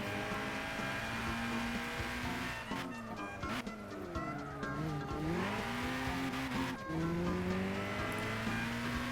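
Race car driven hard in Gran Turismo 6, a continuous engine drone rising and falling through gear changes, with tire squeal and skidding as it corners.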